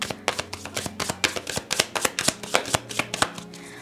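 A deck of tarot cards is shuffled close up in a quick run of crisp, rhythmic riffling slaps.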